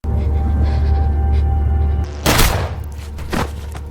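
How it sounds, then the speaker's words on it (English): Gunfire in a film scene: a sharp, loud shot cracks out after a low rumbling bed, followed by a second fainter report moments later. "Seeing her father injured and Sasha about to be executed, Lisa surprisingly shot Tatiana"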